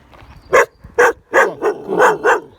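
A dog near a caravan barks in a quick series of about six loud, close barks, sharp and evenly spaced, with no talk over them.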